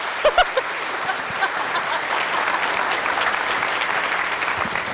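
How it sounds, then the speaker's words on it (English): An audience claps together at a Gun Owners of California gathering, with a few sharp early claps quickly swelling into steady, dense applause that holds for several seconds. "how about a little preliminary clapping?"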